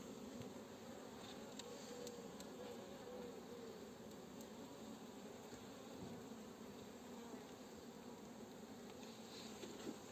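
A steady, dense hum of many honey bees buzzing continuously at a hive, close and even, with no pauses.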